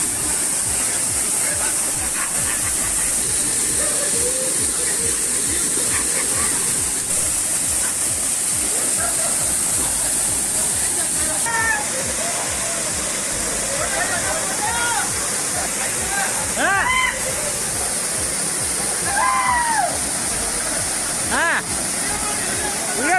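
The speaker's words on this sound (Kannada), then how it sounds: "ಹಾನಾಪುರ ಎಸ್ಪಿ ಗ್ರಾಮದಿಂದ 1 ಕಿಲೋಮೀಟರ್ ದೂರದ ಗುಡ್ಡದಲ್ಲಿ ಜಲಪಾತ ಮೈದುಂಬಿ ಹರಿತಾ ಇದೆ." A hillside waterfall about a kilometre from Hanapura SP village in Karnataka, swollen and in full flow after heavy rain, roars as a steady, loud broadband rush throughout, with a voice talking over it.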